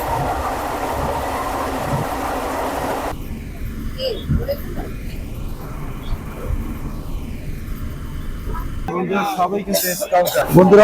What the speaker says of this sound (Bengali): একটা ট্রেন ছিল যেটা স্পেশাল ট্রেন যেটা সিরাজগঞ্জ বাজার স্টেশন থেকে ছেড়ে কমলাপুর যাবে তো আমরা যাচ্ছি সেই ট্রেনে